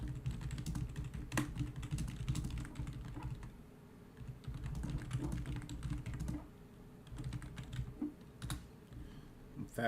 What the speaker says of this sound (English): I'm fat fingering the fuck out my keyboard right now